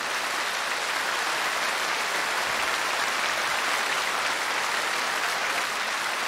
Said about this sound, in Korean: 큰 박수로 격려를 해주시면 여러분 대단히 고맙겠습니다